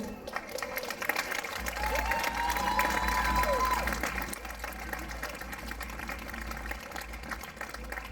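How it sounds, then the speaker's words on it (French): A crowd applauds outdoors at a town gathering by the front steps. The clapping is fairly faint and distant, swelling for a few seconds before fading back into the ambient noise. "Je voudrais qu'on applaudisse et que Claude Girard vienne nous rejoindre sur le perron."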